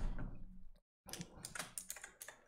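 Header text is typed on a computer keyboard for a website builder, with quick irregular bursts of key clicks, a brief silent pause near the start, then a run of close, crisp taps with no talk.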